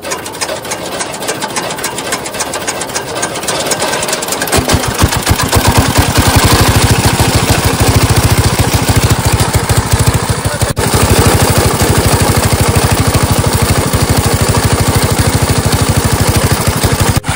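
Engine-driven water pump draining an old pond, a steady loud mechanical drone with rapid regular chugging that settles into an even, continuous run close by.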